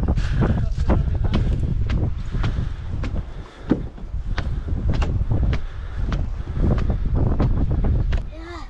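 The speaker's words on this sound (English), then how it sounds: "Ooh, windy today." Loud, steady wind buffets the microphone, rumbling continuously with repeated gusty thumps throughout.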